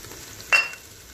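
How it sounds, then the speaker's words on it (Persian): Chopped tomatoes fry in a pan for a lachak dish, giving a short sharp sizzle burst, as if from a stir or a fresh addition, over a quiet kitchen background. "باینجان رومی ما سرخ شد"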